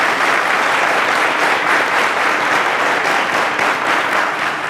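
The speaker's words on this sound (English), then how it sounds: "round of applause to them" Studio audience at a televised maths quiz show finale applauding a contestant's father and maths teacher, steady dense clapping throughout, loud and close with no talk over it.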